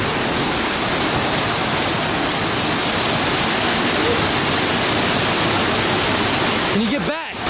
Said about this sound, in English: The water's pretty loud.